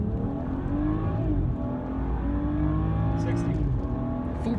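A chip-tuned BMW accelerates hard in race mode with the car in sport mode, its engine rising in pitch through a steady, loud pull heard from inside.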